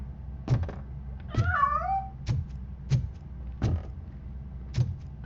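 A cat meows in the video game RoboCop: Rogue City, one clear wavering meow near the start among several sharp thuds and clicks spaced through the scene, with no talking.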